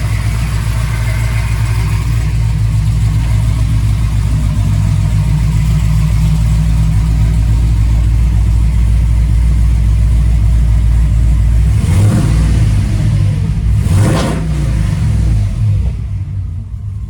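A Ford pickup's engine idles with a loud, close, steady rumble, then rises in two short throttle blips near the end before settling back down, no talk.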